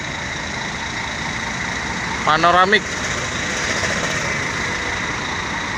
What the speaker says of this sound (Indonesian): Mesin Mercy 2542 ya teman-teman ya.